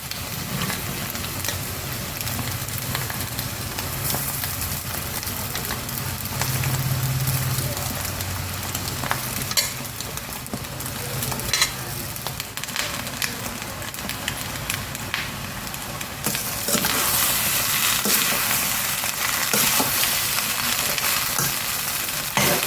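Cooked rice tipped into a pan of fried egg for egg rice, a continuous loud sizzle and crackle of frying with scraping and stirring sounds throughout.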